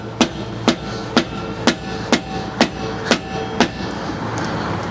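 A hammer strikes a part of an RV wheel bearing assembly during maintenance, producing eight sharp, evenly spaced metallic knocks that ring loudly and close. The blows come in a steady rhythm and then stop, leaving only a quiet background.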